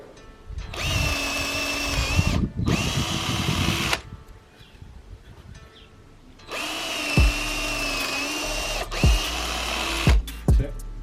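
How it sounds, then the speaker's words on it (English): A power drill drives screws into wood while a homemade squat rack is assembled, with two long whirring runs broken by a pause, then shorter bursts and sharp stops near the end. "So you need some screws, and we'll drill it into there"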